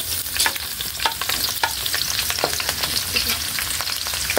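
Onions sizzling and crackling steadily in hot cooking oil in a pan, with scattered sharp pops and stirring scrapes throughout, close and fairly loud, no voices.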